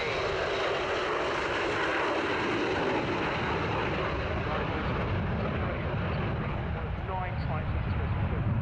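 A low-flying aircraft passes overhead near an airfield circuit, its broad, steady engine roar filling the whole stretch and holding loud and close throughout.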